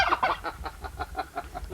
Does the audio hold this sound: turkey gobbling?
yes